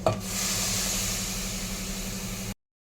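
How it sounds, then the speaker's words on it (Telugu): Blended tomato frying in a pan for a stretch of about two and a half seconds, giving a steady, dense sizzle with a soft bubbling texture and a brief clatter at the start, close by, with no talking. "టమాటా మంచిగా ఫ్రై అయింది కదా"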